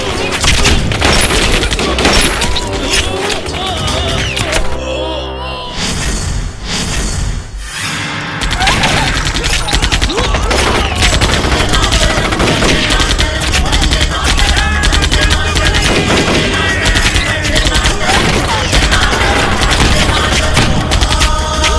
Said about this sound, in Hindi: ठोक दो शाहनवाज। जी जनाब। फायर